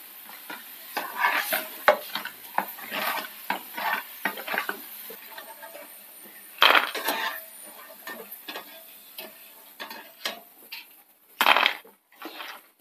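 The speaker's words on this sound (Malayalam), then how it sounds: "ബാക്കി നമുക്ക് ഇതുപോലെ ഓരോന്ന് വീതം ഇട്ട് വറുത്തെടുക്കാം." Chickpeas for masala kadala frying in hot oil over a low flame, with a spoon stirring and scraping the pan in sharp clattering bursts over a faint sizzle, close and without talk.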